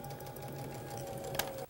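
A sewing machine stitches a quilt seam in a quick, steady mechanical whir, close and faint, stopping abruptly at the end.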